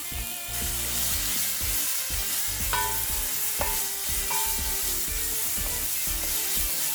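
Bacon frying in a pan with garlic and oil sizzles steadily and close, with scraping stirring strokes and occasional utensil knocks, and no voices.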